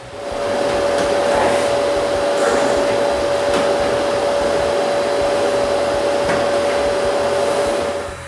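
A vacuum cleaner runs steadily throughout, sucking up debris on and around freshly brushed wooden beams in a workshop mezzanine under construction; a loud, continuous motor whine with a strong steady tone and no talk.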